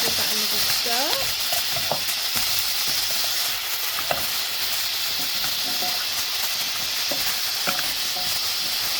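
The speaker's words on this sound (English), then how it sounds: "Give that another stir." Soup made from leftover fridge odds and ends is stirred in a pot, a steady bubbling sizzle with repeated spoon scrapes and light knocks against the side, close up and without talk.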